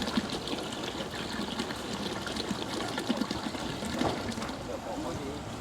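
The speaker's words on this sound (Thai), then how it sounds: "มะนาวนะฮะขวดหนึ่ง30เสิร์ฟเดี๋ยววันนี้ใส่2ขวดครึ่งก่อน" Bottled lime juice poured into a large cooking pot while preparing food for a Chinese banquet, a steady, continuous liquid rush lasting several seconds against a busy, noisy background.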